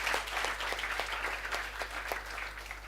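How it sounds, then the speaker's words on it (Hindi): Brief, faint applause from an audience at a CA exam law class, a soft even patter of clapping over a steady low hum. "एक बार जोरदार तालियां आप सब लोगों के लिए"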